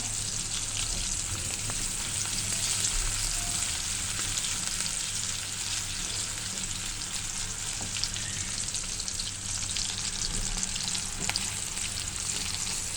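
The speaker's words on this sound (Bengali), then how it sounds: "পেঁয়াজটা একটু ভাজা ভাজা হয়ে গেলে" Onions sizzle and crackle in a hot pan, a steady frying hiss with occasional stirring scrapes.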